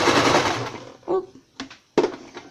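Sewing machine stitching fabric for a homemade dust mask, a loud close burst of rapid needle chatter followed by a few short stop-start runs.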